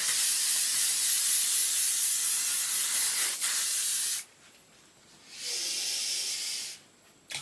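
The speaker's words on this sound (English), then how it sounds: "Hairspray. I can feel it." An aerosol can of hairspray hisses in two long bursts, the first about four seconds, then a brief pause before a second shorter spray, close and bright, followed by a soft click.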